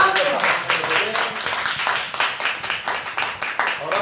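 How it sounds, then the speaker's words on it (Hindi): Hands clapping in steady applause from a Hindi poetry-reading audience at an Independence Day 2020 gathering, continuous and moderately close throughout, with no speech over it. "एक बार जोरदार तालियां"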